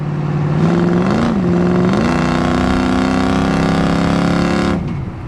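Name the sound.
1972 Chevrolet El Camino SS 350 engine revving while driving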